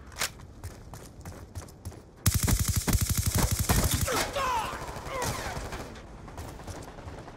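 Black Ops 2 team deathmatch gunfire: a close, rapid automatic burst erupts suddenly and rattles on for about two seconds, followed by scattered further shots and clattering game effects at a lower level.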